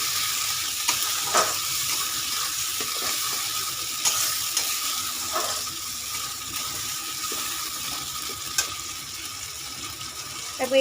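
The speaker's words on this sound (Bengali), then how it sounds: "এই মশলাটা আমি এবার দিয়ে দেব তেলে।" Paste of onion, green chilli, melon seeds and cashews frying in hot oil, a steady close sizzle with occasional stirring scrapes and clicks throughout, no talking.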